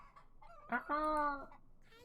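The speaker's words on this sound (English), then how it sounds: "Selling a rooster?" A rooster crows in the strategy game Yes, Your Grace, a single loud, strained harmonic call rising and holding for about a second, preceded by softer clucking notes and heard on its own.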